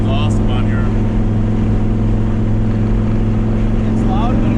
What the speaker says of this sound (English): that exhaust sounds awesome on here